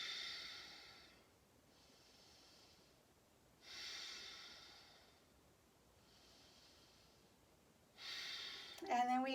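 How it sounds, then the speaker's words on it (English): Slow, deep yoga breaths are held in chair pose, Utkatasana: three long audible exhales close to the microphone with quiet gaps between them, and a voice briefly starts at the very end. "Let's have 3 breaths here."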